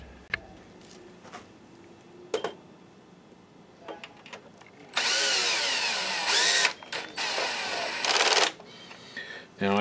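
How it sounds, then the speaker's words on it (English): A power drill with its clutch set low drives screws into a Sony VPL-HW45ES projector during a mainboard replacement, giving two loud whirring bursts of a second or two each between softer handling clicks and taps. "So let's put these screws in."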